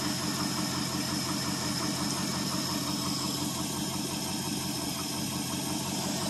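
A 1970 Ford F100 Ranger XLT with a 390 FE V8 idles steadily after a cold start following years of sitting, a close, even, throbbing rumble with no voices.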